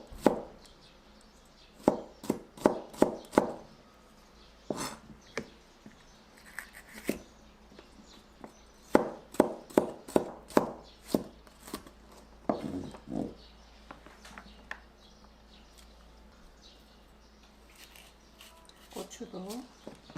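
A knife julienning bell pepper on a cutting board, with sharp rapid chopping taps in quick bursts separated by pauses, close and crisp.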